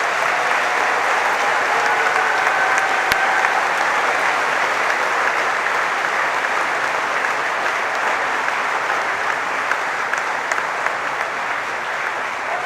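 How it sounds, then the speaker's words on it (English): A graduation ceremony audience for a business and management class gives a warm, sustained round of applause. The dense clapping fills a large hall, loud and steady throughout, with no voices on top. "with a warm round of applause, join me in thanking your family and friends"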